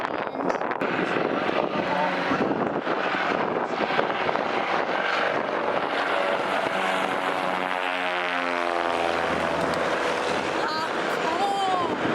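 A small propeller airplane passes overhead near Fairbanks, Alaska, a steady droning engine that rises and sweeps in pitch as it flies by, heard beneath continuous voices and outdoor background noise.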